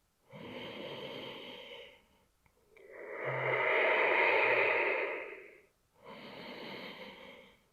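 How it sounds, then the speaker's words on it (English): Deep breathwork breaths: a long, steady exhale swelling and fading in the middle, flanked by two shorter rushing breaths, close and clear with no talking. "nice complete exhale."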